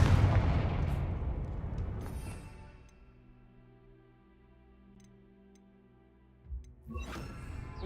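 Confringo blasting spell in the Hogwarts Legacy video game: a loud booming explosion that decays into a long ringing, humming tail, then a second softer blast near the end.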